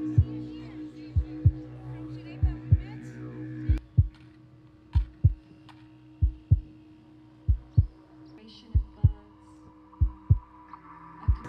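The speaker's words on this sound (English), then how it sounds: "Put your left hand on your heart and the right hand to create the heartbeat." Steady heartbeat thumps pulse in regular pairs, played loud alongside a soft song with sustained hum-like tones underneath, with no voices over it.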